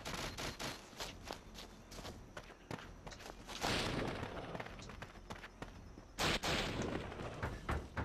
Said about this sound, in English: Where the fuck is shooting from?